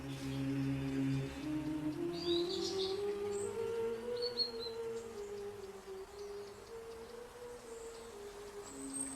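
Birdsong drifting through a forest of oak, birch, hazel and holly in the Eume river gorges of Galicia, with scattered high chirps and calls over a steady low ambient hum, moderately distant.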